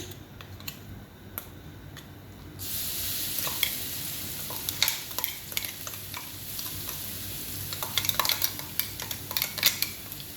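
Steady sizzling of something frying in hot oil, joined midway by scraping stirs and light clinks of a utensil against the pan.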